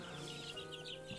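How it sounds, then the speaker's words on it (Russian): Young chickens a week or two old, bought from a shop, cheep in a continuous high chatter of overlapping peeps, close by and moderately quiet. "А съездили мы в магазин и купили цыплят"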